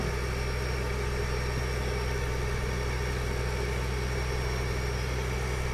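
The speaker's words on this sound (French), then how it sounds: "Avec mon tracteur, je roule plus lentement que lui normalement" A tractor engine in the video game Farming Simulator 2013 idles steadily, with a constant low mechanical rumble and hum running at even loudness throughout and no speech.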